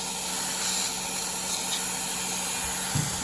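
Coolant spray switched on at a milling machine during a finishing pass, a steady close hiss with soft rubbing texture running evenly throughout, no voices.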